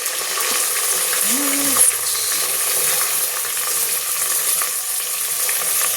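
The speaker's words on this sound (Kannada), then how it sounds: "ಕೊತ್ತಂಬರಿ, ಪುದೀನ ಎಲ್ಲ ಹಾಕೊಂಡ್ಬಿಡಿ. ಎಣ್ಣೆಲಿ ಅದು ಫ್ರೈ ಆದರೆ ಇನ್ನೂ ಚೆನ್ನಾಗಿರುತ್ತೆ" Coriander and mint frying in hot oil give a loud, continuous close sizzle. A short ringing tone and a faint mechanical rattle sit near the start, and no one speaks.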